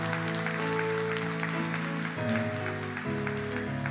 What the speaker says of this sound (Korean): 우리 나오실 때 큰 격려와 박수로 함께